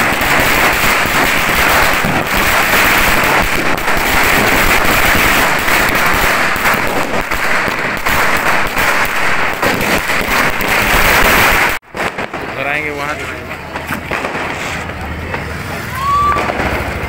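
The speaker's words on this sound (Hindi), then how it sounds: "तेज प्रताप यादव पटाखे जलाते हुए नजर आ रहे हैं" Firecrackers set off during Diwali celebrations, with dense, loud crackling bursts for about twelve seconds, then sparser pops and crackles as voices talk.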